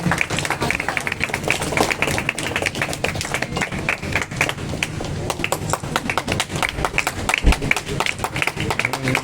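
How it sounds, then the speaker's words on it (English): Applause for a family at a car dealership launch event for the MG Hector, with dense, continuous clapping from a crowd, mixed with chatter and occasional louder claps. "Big round of applause for the family"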